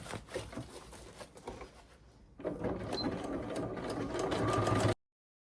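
A domestic sewing machine stitches a small insulated thermal bag, its motor running in a steady close whir that starts partway through after a brief quieter pause, then continues loudly until an abrupt stop.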